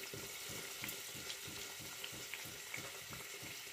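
Vadde fritters deep-frying in hot oil for a winter breakfast, a steady dense sizzle with bubbling crackle throughout, fairly close and continuous with no talking.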